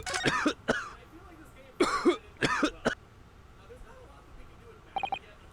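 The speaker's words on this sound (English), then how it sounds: "Can you stop coughing?" A character in the courtroom scene of The Great Ace Attorney Chronicles, a PC game, coughs in a series of sharp, close hacking fits: a cluster at the start, another in the middle and a final quick burst near the end.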